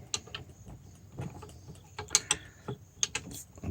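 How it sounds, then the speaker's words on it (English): A screwdriver prying at a stuck part on the shaft of an HPC 1200 Blitz key code machine, making close, irregular small metallic clicks and scrapes with short rattling bursts. "I'm going to try and take a screwdriver, get this to move a little bit."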